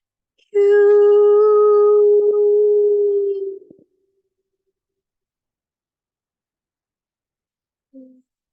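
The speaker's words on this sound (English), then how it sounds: "Some tones coming forward to assist certain chakras." A single sustained pure healing tone for chakra work rings out clearly for about three seconds, fading and cutting off, followed by silence and a brief faint tone near the end.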